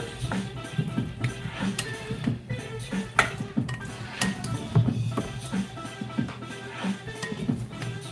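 Food being stirred in a pot while prepping lunch, with irregular scraping and light clinks of a utensil against the pot, close and moderately loud, no talking.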